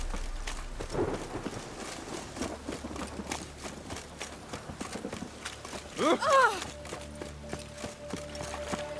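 Steady rain in The Witcher 3: Wild Hunt hisses over a low rumble, with clopping hooves and a brief musical chime rising near the end.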